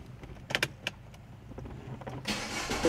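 A car engine cranks and catches after a few short clicks and thumps, then settles into a steady idle hiss, close and moderately loud with no talking.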